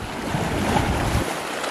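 Rough high-tide surf rushes and churns nearby on Seven Mile Beach, Cayman Islands, a broad wash of wave noise with some wind buffeting, lasting under two seconds.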